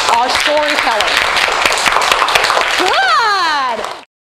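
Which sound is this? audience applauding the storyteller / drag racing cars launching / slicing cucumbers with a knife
audience applauding the storyteller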